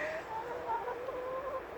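Chickens in a garden cluck and chirp in short, scattered calls over a steady outdoor hiss, fairly close and moderately loud, with no talking.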